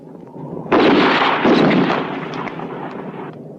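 A loud burst of gunfire in a western shootout setting, a heavy blast that hits suddenly and rolls into a dense, rumbling volley that trails off slowly, with no voices over it.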